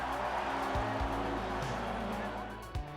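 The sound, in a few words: touring cars racing at Silverstone Classic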